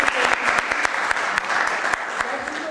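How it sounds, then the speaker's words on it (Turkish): At a mobile developers' conference talk, the audience claps in dense, steady applause throughout, with sharp individual claps standing out close by. "Ben ayrıca bir alkışlamak istiyorum."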